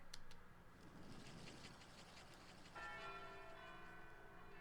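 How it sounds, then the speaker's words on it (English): A church bell rings in the dating game Tokimeki Memorial Girl's Side 4, a few faint, clear chimes at the start followed by a sustained ringing tone that swells in later, heard alone without speech. "The bell is ringing."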